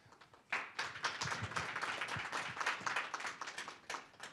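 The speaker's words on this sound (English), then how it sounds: "lots of applause and celebration" An audience applauds at the start of a panel discussion, a dense close patter of many hands clapping steadily for several seconds, moderately loud.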